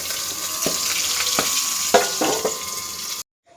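Tangra fish frying in hot oil in a home kitchen, a steady close sizzle with several sharp spattering pops and crackles, ending abruptly in silence.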